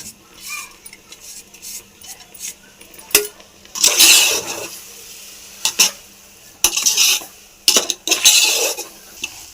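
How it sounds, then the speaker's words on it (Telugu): A spoon stirs semiya with sugar and a pinch of food colour in a metal pan for a Ramzan sweet. Scraping swishes repeat with sharp clinks against the pan, close and fairly loud, over a low background hiss. "మొత్తం కలిసేలాగా ఒకసారి బాగా కలిపేసుకోవాలి."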